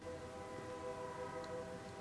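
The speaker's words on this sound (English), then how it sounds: "Train!" A train passes with a faint, distant horn or whistle drawn out in steady tones over a low rumble that holds for the whole couple of seconds, with no talk.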